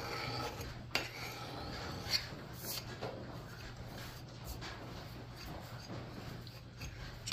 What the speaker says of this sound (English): Pull that burr off of there.